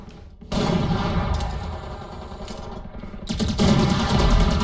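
Gunfire rings out in a shooting video game, with loud bursts of rapid shots that start abruptly, pause briefly and then resume, dense and close.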